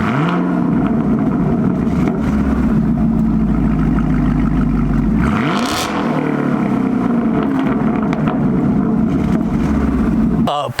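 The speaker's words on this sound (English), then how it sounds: "Let's put in a little bit of clips with the car behind me here and let that engine roar a little bit." Chevrolet Camaro SS 1LE V8 engine and exhaust roaring nearby, a rising rev sweep midway then sustained deep rumble, loud and dominant with no talk.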